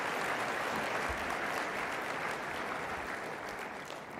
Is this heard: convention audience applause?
yes